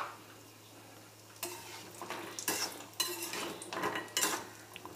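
Cashews stir and roast in ghee in a metal pan, a soft sizzle under repeated scraping, clinking strokes of a utensil, close and quiet, growing busier after the first second.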